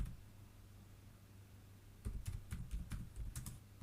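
Quick bursts of keystrokes on a computer keyboard begin about halfway through, following a quiet stretch with a low steady hum, and the typing is close and fairly soft.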